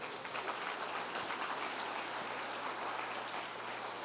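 Congregation clapping during a church service, a faint, continuous wash of many hands heard from a distance with a low steady hum underneath.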